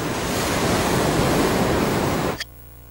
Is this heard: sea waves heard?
yes